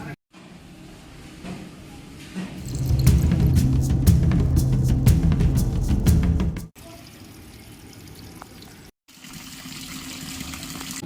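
Spring water from Dharakonda pours into tanks at a hill temple in Lova, making a steady, close rushing splash that swells for a few seconds and then drops to a softer flow with a few clicks.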